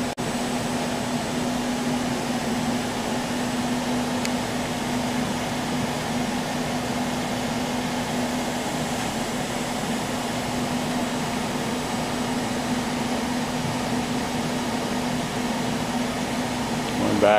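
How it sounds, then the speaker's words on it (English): Moore 500 Series CNC jig grinder from 2006 moving through its axes, a steady mechanical hum and whir with a constant tone, continuous and moderately loud with no talk. "We're going to just do some axis moves and demonstrate all the axes moving on this machine"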